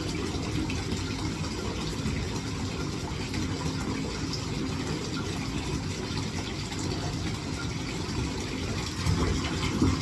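A CPAP machine runs steadily to rinse water through its hose, giving a continuous low whirring hum with a watery gurgle. It holds an even level throughout, with a small bump near the end.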